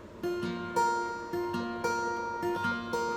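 An acoustic guitar plays a repeating fingerpicked pattern on the upper three strings with no bass notes, a gentle, even rhythm of bright plucked notes, close and soft.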